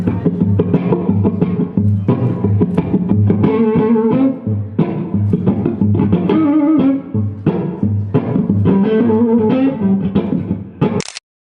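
Electric guitar played through a PRS J-MOD 100 amplifier at a NAMM 2017 press event, a run of loud, effected and slightly distorted phrases rather than one note, sustained with heavy low-end, ending in a short sharp burst.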